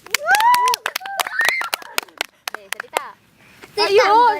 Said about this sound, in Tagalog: Pasok! Palakpak.